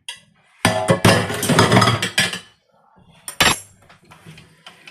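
A spoon scrapes and clinks against a pot as crawfish and salmon are stirred into pasta sauce, in one long clattering burst and then a shorter one after a quiet gap.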